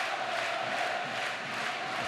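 A large football stadium crowd roars steadily as the home side pushes toward goal, a dense, sustained wash of cheering and shouting heard from a distance.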